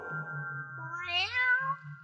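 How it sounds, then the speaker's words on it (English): A cartoon black cat meows in a long, rising and falling cry, loud and close, over a steady low musical drone in a vintage children's animated ghost story. "Look, there's a black cat crossing the path."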